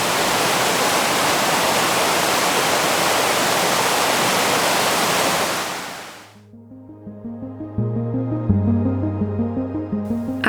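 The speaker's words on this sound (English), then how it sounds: "I go back to that video and let the waves soothe my worries." Rushing ocean waves from an old recording fill the first six seconds as a loud, steady wash, then fade out and give way to a quiet, rising run of tones.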